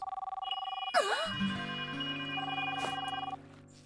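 A telephone bell rings in a steady repeating trill, a fairly quiet ring heard alone with no talk over it.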